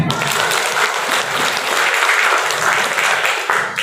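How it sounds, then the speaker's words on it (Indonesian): Steady, full applause fills the room at a primary school graduation ceremony, a continuous wash of clapping from the assembled families and pupils. "Minta tepuk tangannya"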